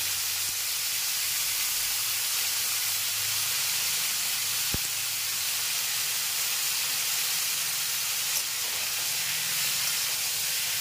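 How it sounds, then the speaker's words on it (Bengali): Cauliflower pieces coated in turmeric fry in hot oil, giving a steady, even hiss and sizzle that runs throughout, with a single faint click near the middle and no talking. "হলুদ দিয়ে কপিগুলোকে ভাজা করে নিচ্ছি"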